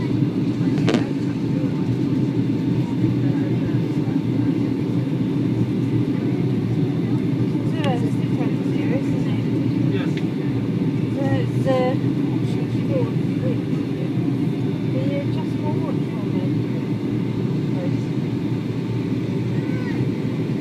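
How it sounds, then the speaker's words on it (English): Steady, loud cabin roar of a Thomson Boeing 757 airliner on landing approach into Marsa Alam as the flaps go down, a constant engine and airflow drone with faint mechanical whines and some talk. "Flaps are going down."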